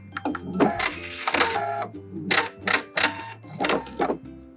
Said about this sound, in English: So we're gonna sew down that line that we have there from ironing